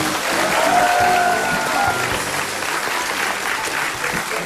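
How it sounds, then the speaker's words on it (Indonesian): A crowd applauds steadily for several seconds, dense clapping that stays fairly even and loud, with a brief whistle early on. "Kasih tepuk tangan dulu buat Mbak Kandar."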